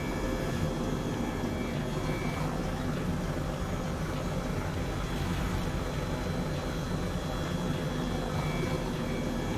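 A small airplane in Microsoft Flight Simulator flies around a mountain with a constant, even engine drone and airflow hum, steady and unbroken throughout, with no voices.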